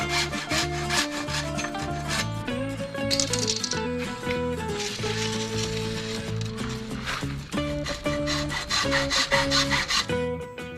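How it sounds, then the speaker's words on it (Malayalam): Saw cutting the excess end off a bent wooden piece of a hanging chair frame, a dense run of rapid rasping strokes with rattling, loud and close throughout. "അതിനുശേഷം അതിൻ്റെ മുൻഭാഗത്തേക്ക് കൂടുതലുള്ള ഭാഗം നമ്മൾ കട്ട് ചെയ്ത് മാറ്റുന്നുണ്ട്."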